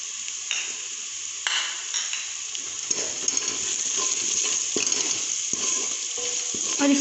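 Ginger garlic paste sizzles in a pan with stirring and scraping, the frying growing slightly louder toward the end.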